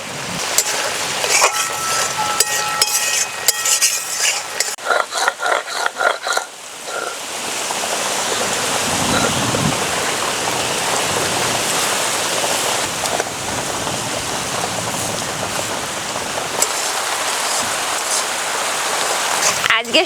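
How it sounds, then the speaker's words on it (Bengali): Steady heavy rain falls outdoors on a hot afternoon, a dense continuous hiss that swells and holds loud for most of the stretch, with brief clatter and movement sounds before it takes over. "দুপুর গড়তে না গড়তেই দেখুন বৃষ্টি শুরু হয়ে গেছে"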